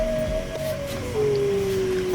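Dogs in a village howl in a long, loud, sustained wavering tone that slides gradually lower, with a faint second voice underneath against background noise.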